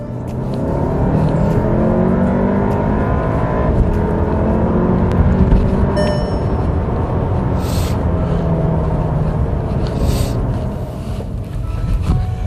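A 2023 Skoda Superb L&K executive sedan accelerates in sports mode on a road, its engine and tyre roar loud and sustained, rising gradually through the run with no speech.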